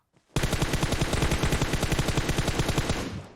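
In the mobile game PUBG Mobile, a long burst of rapid automatic gunfire sounds close and loud, following a brief faint click, with evenly spaced shots for about three seconds before stopping.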